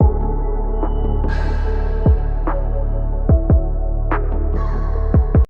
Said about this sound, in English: I have this plucky bass that's playing a pattern of its own